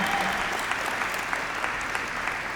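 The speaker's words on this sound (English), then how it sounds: "let's get a big round of applause for these girls" A crowd applauding after a women's fight at a combat sports event, a strong, continuous roar of clapping with scattered sharper claps standing out, fairly close and steady.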